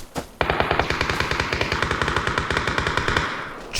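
Rapid automatic gunfire in the video game PUBG rattles off in a steady, evenly paced stream of about twenty close, loud shots, then stops abruptly.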